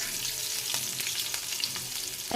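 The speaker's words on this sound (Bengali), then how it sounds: "লঙ্কাটা ভালো করে ভাজা হয়ে গেছে" Green chillies crackle in hot oil with nigella seeds, a steady close sizzle dotted with small pops and stirring sounds, fairly quiet and free of talk.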